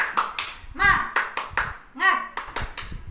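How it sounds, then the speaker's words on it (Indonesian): Children and a teacher perform a rhythmic 'tepuk semangat' clapping chant, short bursts of claps alternating with sung or chanted syllables in a patterned beat. "kita tepuk semangat dulu ya anak-anak"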